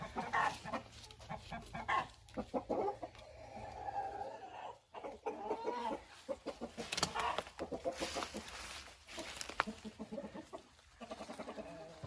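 Hens cluck and murmur in a chicken coop bedded with a cushion of dry leaves in autumn. The calls are close and repeated, and there is some faint rustling beneath them.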